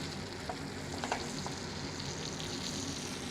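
A fish fillet fries in butter in a hot pan, a dense steady sizzle with faint crackles throughout, close and even in level.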